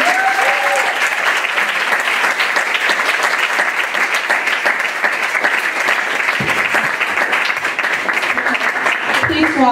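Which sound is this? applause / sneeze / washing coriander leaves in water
applause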